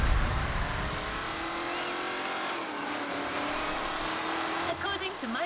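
Buzzing, revving engine of an RC sand buggy in the video game The Crew Motorfest, steady and fairly loud with pitch shifts, under a person talking.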